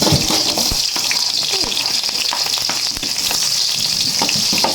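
Garlic, onion and ginger sauté in a pan with a steady, loud sizzle and scattered clicks of stirring throughout, close and continuous with no talking.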